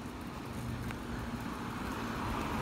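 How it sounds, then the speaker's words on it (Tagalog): Steady morning road traffic with cars passing continuously, a broad constant rumble and hiss that stays fairly loud throughout with no voices. "Maraming mga sasakyan ngayon umaga."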